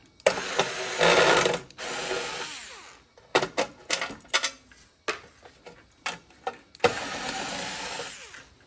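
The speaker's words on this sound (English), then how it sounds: "Take out these screws, it'll be a little easier." Screws being removed from a battery charger during a teardown, with bursts of a power screwdriver whirring interspersed with short mechanical clicks and rattles, close and fairly loud.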